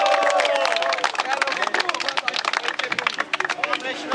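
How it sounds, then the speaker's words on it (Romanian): An audience at a Romanian hip-hop cypher in Iasi breaks into clapping and cheering, a crowded burst of applause that thins into scattered claps over a few seconds, with voices mixed in. "Ok, aplauze pentru omul meu"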